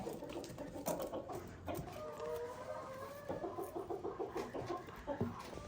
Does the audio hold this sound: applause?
no